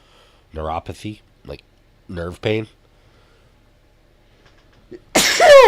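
A single loud, close sneeze bursts out at the end, following a stretch of someone talking.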